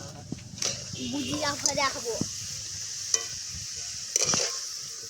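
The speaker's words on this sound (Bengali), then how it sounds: "আর একটু ভাজতে হবে।" Sweet sugar sticks frying and being stirred in a pan, soft sizzling with scraping clatter and intermittent clinks, people chatting over it.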